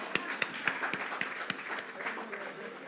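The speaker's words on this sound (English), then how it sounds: "Let's have another round of applause." Scattered applause from a crowd at a teachers' conference, light claps with a few sharper ones standing out, fairly faint, with a murmur of voices underneath.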